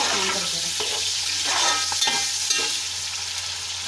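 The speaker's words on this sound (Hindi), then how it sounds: "अब ये प्याज को हमने डार्क ब्राउन करना है।" Onions frying in a pot for Bannu-style beef pulao, a loud, dense sizzle close by with steady stirring scrapes throughout.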